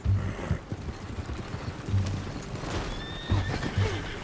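A horse in the Red Dead Redemption 2 video game whinnies several times in short bursts while hooves clip-clop steadily beneath, fairly close and alone without talk.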